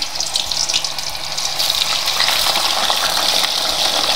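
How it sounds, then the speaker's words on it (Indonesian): Tofu pieces sizzle and crackle loudly in hot oil, a dense steady frying hiss that swells slightly midway and continues close up with no talking. "minyaknya udah panas, terus kita masukin tahunya satu per satu deh"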